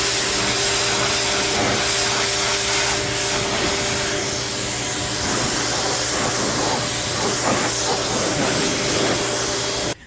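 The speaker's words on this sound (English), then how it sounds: "Now let's see what happens when we put the pressure washer to it." A Portland pressure washer sprays a vehicle to strip tree sap, producing a loud continuous hissing spray over a steady motor drone, uninterrupted throughout.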